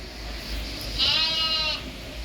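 A lamb about one month old gives a single short, wavering bleat close by, over a faint steady background hum, with no voices.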